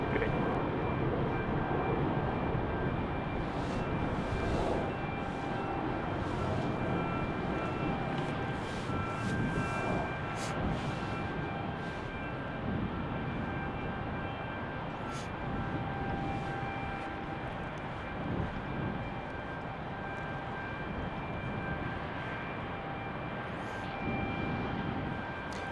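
A United jet airliner departs Salt Lake City, its broad engine roar holding steady and fairly loud for the whole stretch, with faint tonal whine above the rumble and no talk.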